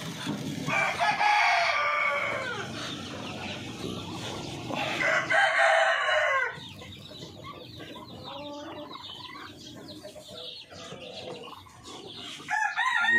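A flock of chickens with many chicks clucks and peeps nearby, with louder bursts of adult calls early on and softer chick chatter afterward.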